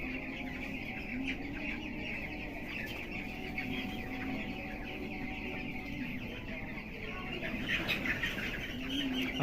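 Chickens on a poultry farm cluck and murmur together in a dense, steady chorus, with a brief flutter of wings near the end and no clear speech.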